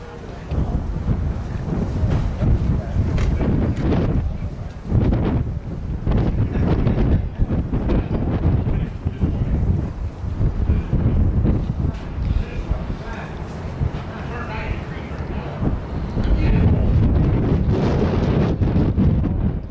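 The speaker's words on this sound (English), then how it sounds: "So it's a little gusty today." Strong gusty wind buffets the microphone in heavy, rumbling bursts throughout at a cooling tower rigging site, with a voice speaking underneath.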